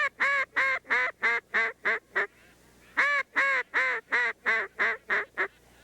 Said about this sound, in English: You may want a high-pitched call, in which I use high-pitched calls most of the time because they can be heard farther.